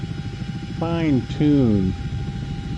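Steady rotor and turbine drone of a CH-47D tandem-rotor helicopter in the X-Plane 11 flight simulator, a continuous even hum with a thin whine running underneath as someone speaks over it.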